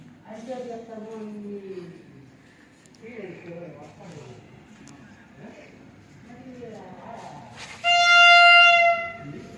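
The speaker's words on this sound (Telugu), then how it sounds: "ట్రైన్ వచ్చింది" A train pulls into a very small railway station at Narsipuram, with talk and background noise running through most of the stretch before a loud, sustained horn blast sounds near the end.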